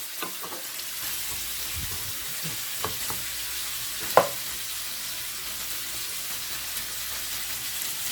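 Chicken 65 with yogurt and spices cooks over low heat in a pan, giving off a continuous hissing sizzle with a few light stirring knocks, one sharper clink midway.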